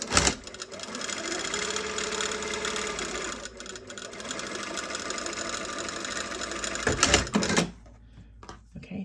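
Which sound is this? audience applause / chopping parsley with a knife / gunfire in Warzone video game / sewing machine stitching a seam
sewing machine stitching a seam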